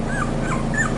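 A merle male cockapoo puppy whimpers in soft, repeated high cries, three short rising whines over a steady low background hum, close by and fairly quiet.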